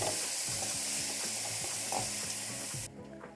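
Long beans fry in a hot wok for a vegetarian Bengali curry, giving a steady loud sizzle with stirring clatter throughout, then cutting off sharply near the end as the beans are lifted out.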